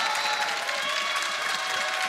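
A live esports arena crowd in Berlin at an LEC Spring Split League of Legends match, XL versus Vitality, applauds and cheers in a steady, dense wash of clapping that carries through the whole moment.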